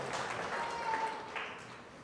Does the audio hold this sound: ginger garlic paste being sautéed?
no